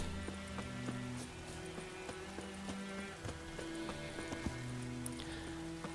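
Horse hooves clip-clop in The Witcher 3 video game, a steady rhythmic trot of sharp, evenly spaced hoof strikes under quiet game music and ambience, fairly faint overall.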